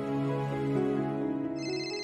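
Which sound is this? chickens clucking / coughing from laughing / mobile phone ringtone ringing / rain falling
mobile phone ringtone ringing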